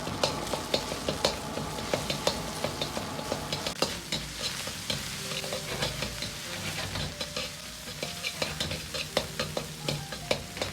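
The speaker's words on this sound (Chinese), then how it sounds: "锅中留少许的油，先下入肉末煸炒出香味" Minced pork stir-fries in a little oil in a wok for Sichuan dry-fried green beans, with loud continuous sizzling and frequent sharp scrapes and clinks of the spatula against the pan.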